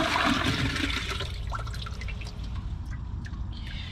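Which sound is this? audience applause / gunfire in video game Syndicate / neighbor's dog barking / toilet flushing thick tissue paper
toilet flushing thick tissue paper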